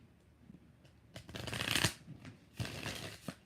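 Tarot cards are shuffled close up in two quick riffling bursts, crisp papery flutters separated by a short pause, with no talking.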